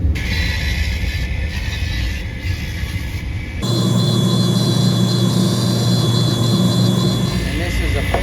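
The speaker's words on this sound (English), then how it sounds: "then the next wheel makes a real high polish" A polishing wheel buffs a cast gold jewelry piece, a steady motor whine with a broadband grinding hiss that grows louder and fuller partway through, running continuously without talk.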